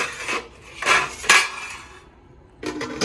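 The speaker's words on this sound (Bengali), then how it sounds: "ভাতের হাঁড়িতে চালটা একটু নাড়া দিয়ে" A metal spoon scrapes and clanks against the inside of a metal cooking pot as washed rice is stirred, several loud uneven strokes with brief quiet gaps between them.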